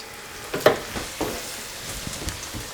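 Taco tortillas heat directly over an open gas flame, giving a soft sizzling crackle with a few light taps and pops, quiet and close.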